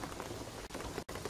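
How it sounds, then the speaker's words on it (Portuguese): Steady rain pours in Shadow of the Tomb Raider, a dense, even hiss of drops on surfaces that fills the whole stretch, broken by two brief dropouts near the middle and end. "O que eu tô dizendo é que a chuva vai inundar isso."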